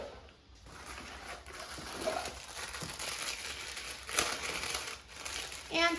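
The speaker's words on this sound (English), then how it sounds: "take masala dosa out of its packaging" Frozen masala dosa plastic packaging crinkles and rustles up close as it is opened and the dosa pulled out, in irregular crackling bursts.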